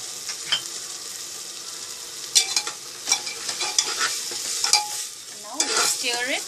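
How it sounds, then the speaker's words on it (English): Mutton curry with papaya, potato and spices stirred in a frying pan, heard as a close, crackling sizzle with irregular bursts of scraping and clinking from the spoon, without any speech. "Now we'll stir it"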